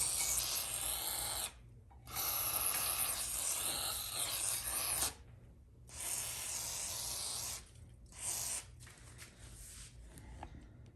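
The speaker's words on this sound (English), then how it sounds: "Just go ahead and spray down your valve trains." Close spray bursts of cleaner hiss out onto a Ford 4R100 transmission valve body in several separate blasts of varying length, with short quiet gaps between them.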